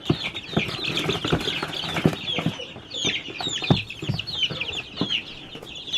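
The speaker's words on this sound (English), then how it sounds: "Here's the chicks in the pool, and they're just going right out there into the shed." Young chicks chirp continuously in dense, high peeping bursts as they are carried in a pool out to a shed, with a few clucks and wing flutters and soft handling bumps close by.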